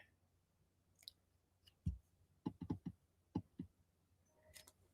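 Computer mouse clicking, a sparse run of sharp close clicks, some in quick pairs and triplets, over a quiet room with no talking.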